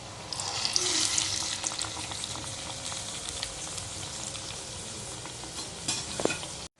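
Medu vada deep-frying in hot oil, a steady close bubbling sizzle that carries on without a break, with a faint clink near the end and no voices.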